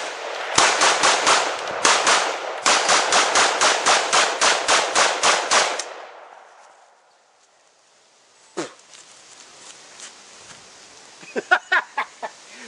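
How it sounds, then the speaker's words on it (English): An AKM rifle without a flash hider fires two rapid strings of loud, close booming shots, then falls quiet before a few scattered fainter sounds and a short voice near the end. "The muzzle blast. It was without a flash hider."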